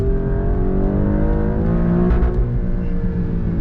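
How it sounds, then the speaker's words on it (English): A 2024 Alfa Romeo Stelvio Quadrifoglio engine revs hard and holds against the rev limiter, a loud, close, sustained roar with a few quick pops as the pitch wavers. "Oh, I like the rev limiter better on this. Pops."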